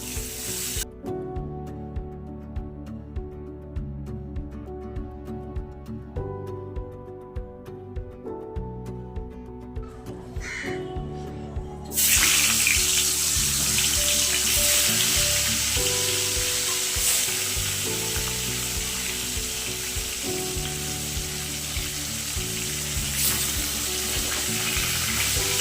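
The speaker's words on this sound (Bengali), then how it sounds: "এদিকে বেগুন ভাজা বসিয়ে দিয়েছি।" Eggplant slices fry in a pan on a home kitchen stove, giving a loud, steady sizzle that swells partway through and continues close and unbroken over a rhythmic musical background.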